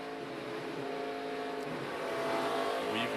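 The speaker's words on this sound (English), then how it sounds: "you can hear Spencer getting out of that throttle, feathering it through 1 and 2" Race car at the 2013 ZLOOP 150 stock car event, a steady loud engine drone on track with the throttle eased and feathered through turns one and two, engine tone shifting slightly amid continuous track noise.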